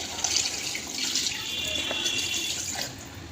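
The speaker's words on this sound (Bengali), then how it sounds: "মশলার তেল ছেড়ে গেছে, এবার আমি দিয়ে দেবো জল।" Water poured into a pan of frying masala for Bengali katla fish curry with potato and cauliflower: a steady close splashing, hissing pour lasting a few seconds, fading at the end.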